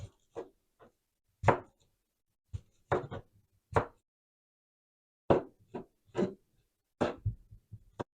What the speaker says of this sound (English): now I'm gonna cut them in small cubes to fit in my blender